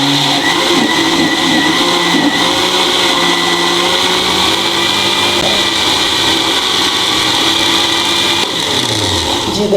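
An electric blender churning homemade cream into butter for desi ghee, a loud, close, steady whirring drone that runs without a break and drops slightly in pitch near the end.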